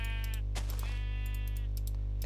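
Sheep in the Minecraft video game bleat in two short wavering calls over a steady electrical hum and faint keyboard clicks during survival gameplay.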